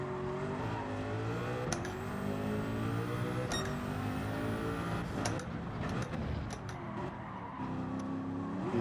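A 1989 Sauber Mercedes C9 race car in Gran Turismo 7 at Le Mans, its engine roaring steadily as the tires spin and squeal, with a few sharp gear-change clicks.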